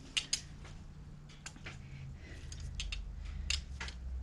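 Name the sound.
old torque wrench tightening a Harley muffler mount bolt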